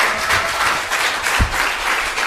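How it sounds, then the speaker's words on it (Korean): A loud, dense crowd applause fills a live party broadcast event for a guest speaker, steady and continuous with no speech, with one low thump partway through. "변희재 대표에게 힘찬 박수 부탁드리겠습니다."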